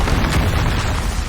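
A Bombarda spell blast from Hogwarts Legacy gameplay, a dense, loud booming burst that fills the whole short moment with low rumble and crackling noise.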